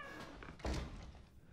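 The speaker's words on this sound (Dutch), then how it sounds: "Deur dicht." A door shuts with a dull thunk inside the house in the video game Resident Evil 7, one short close impact over quiet background.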